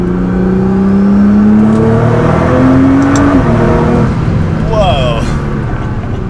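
A turbocharged car on a high boost setting accelerates hard at about 70% throttle in third gear: a loud, close engine drone rises steadily in pitch, turbo whine on top, and a voice exclaims near the end.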